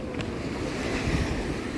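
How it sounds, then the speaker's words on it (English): Ocean surf washes ashore at Ormond Beach, Florida, a steady broad roar of breaking waves mixed with wind buffeting the microphone, no voices. "they look like two waves crashing into each other"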